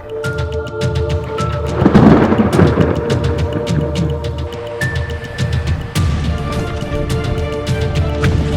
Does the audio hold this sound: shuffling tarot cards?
no